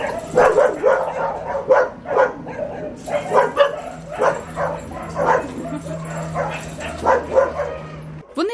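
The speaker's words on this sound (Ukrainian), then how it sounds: "На пункті перетримки проживає кілька десятків собак." Many dogs bark and yip in quick overlapping bursts nearby at an animal shelter, a steady chorus with occasional whimpers.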